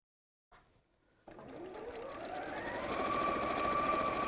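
A sewing machine stitches a pleated bag, starting with a brief whir, then running in a steady, close, rapid mechanical drone that gradually builds and speeds up.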